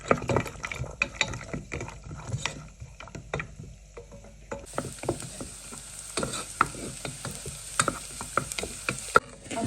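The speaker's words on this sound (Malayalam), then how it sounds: "നമ്മൾ നെയ്യ് ചൂടായ ശേഷം നമ്മുടെ കിസ്മിസും അണ്ടിപ്പരിപ്പും" Cashews and raisins frying in hot ghee in a pan for semiya mango payasam, a soft crackle under frequent spoon taps and scrapes against the pan, close and fairly quiet.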